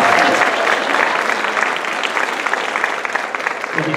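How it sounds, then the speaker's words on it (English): A pageant audience at a homecoming event applauds steadily, a loud, dense wash of clapping that holds for several seconds and eases slightly toward the end. "Give them a nice round of applause already."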